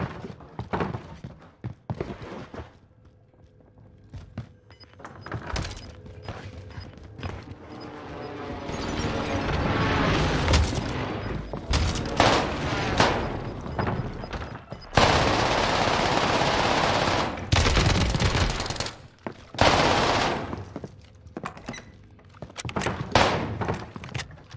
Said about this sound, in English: This is an SMG.